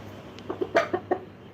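A chicken gives a short series of about five soft clucks, close by, with a quiet background hum.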